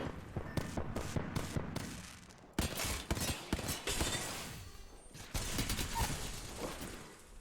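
Rapid bursts of gunfire during a squad battle in a video game, quick rattling volleys that stop and start with short pauses between them, close and fairly loud.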